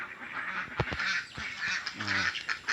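Ducks at their pen give short nasal quacks in a few quick bursts with brief gaps between them, heard close by over faint outdoor background noise.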